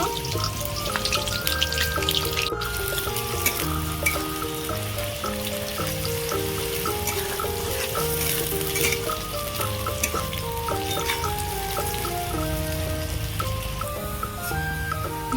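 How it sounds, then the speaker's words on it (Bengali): Onions fry in hot oil in a kadai over a wood-fired stove for prawn biryani, giving a constant crackling sizzle like rain, with music playing over it throughout. "আমি প্রথমে পেঁয়াজ বেরেস্তা করে নেব"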